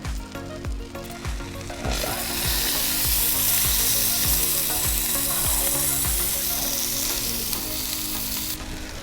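Thick steak edges searing on a hot Blackstone griddle, a loud, steady close-up sizzle with crackling fat, preceded by a few quick scraping clatters, without talking.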